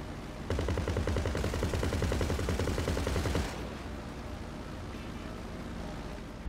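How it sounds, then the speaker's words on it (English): Mogul aircraft machine gun in GTA Online fires a loud, sustained rapid burst for about three seconds, then gives way to steady engine and wind noise from the aerial dogfight. "Shot him out of the cockpit with the Mogul machine gun"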